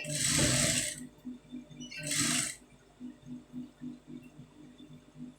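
A sewing machine stitching cloth for a round neck, running in a quiet, steady rhythmic chug, broken by two louder bursts of hissing noise early on.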